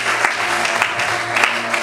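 A church congregation at a French-language service applauds, a brief burst of steady, dense clapping from a crowd, close and fairly loud.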